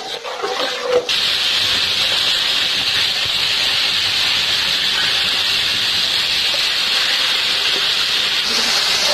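Chicken sizzles in a pan with salt, black pepper and green chili while it dries out until the oil releases, a loud, steady frying hiss that runs continuously after a brief rustle at the start.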